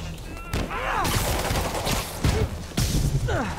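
Gunfire in Marvel's Spider-Man Remastered: loud, close bursts of shots and impacts that start and stop several times, mixed with some game voices and clatter.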